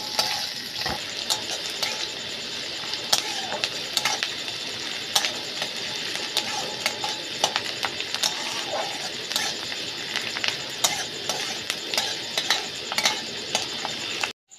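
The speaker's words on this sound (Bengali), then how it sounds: "এই পেঁয়াজটাকে আমি লাল করে ভেজে নেব।" Chopped onion fries in oil while being stirred, a continuous bright sizzle punctuated by frequent clicks and scraping taps from the spoon, ending abruptly.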